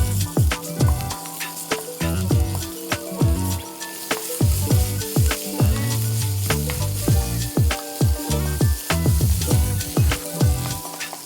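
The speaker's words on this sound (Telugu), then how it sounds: "ఇప్పుడు మనం పచ్చిమిర్చి ఉల్లిపాయ వేసుకోవాలి." Green chillies and onions fry in a pan with a loud, continuous sizzle, broken by repeated sharp scrapes and clatter of stirring. No voices are heard.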